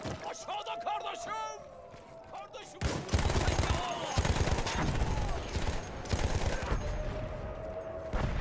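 Rapid bursts of gunfire in a shooting game, a dense, loud fusillade of shots rolling on for several seconds after a calmer start, with a voice speaking over it.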